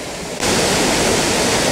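Shallow water rushing over a waterfall just below a dam near Joplin, Missouri: a loud, steady broadband roar that starts abruptly and continues evenly with no voices.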